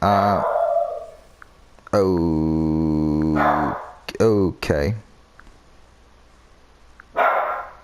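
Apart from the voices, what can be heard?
dog barking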